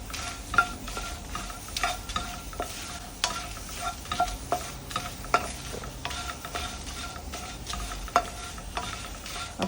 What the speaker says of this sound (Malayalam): Curry leaves crisp ആവുന്നവരെ വറുക്കുക.